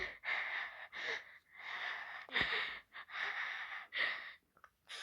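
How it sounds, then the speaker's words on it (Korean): Repeated breathy exhales and inhales, fairly close and steady, about six breaths in a row with short pauses between them. "뭔가 숨소리가 들리는데?"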